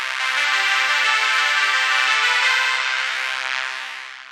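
Chase Bliss Generation Loss MKII pedal giving audio an aged, worn tape-like character: a dense, sustained wash with steady hiss, loud and continuous, then gently fading toward the end.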